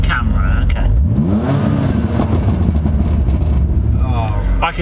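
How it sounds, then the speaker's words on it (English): A BMW E38 engine gives a single swelling rev that rises and falls, loud and close, with voices chatting over it. "you should give it one more rev"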